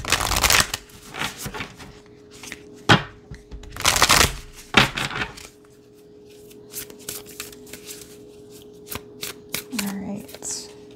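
Someone shuffles a Work Your Light Oracle card deck by hand, with soft papery riffles and slides in short bursts and quieter taps, as a voice talks over the shuffling.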